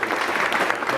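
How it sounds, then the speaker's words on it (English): Audience at a scholar-athlete awards ceremony clapping, a brief burst of dense applause, with a voice faintly underneath. "let's have a round of applause"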